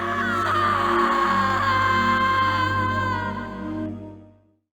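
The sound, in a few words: character screaming in the video game Harvester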